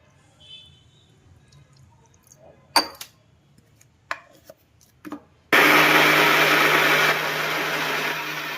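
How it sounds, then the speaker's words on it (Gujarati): A small mixer grinder jar whirs loudly, grinding flattened rice (poha) with water, starting abruptly after a few faint clatters and running steadily, then easing slightly in pitch and level. "નાના મિક્સરના જારમાં વ્યવસ્થિત પીસી નાખવાના"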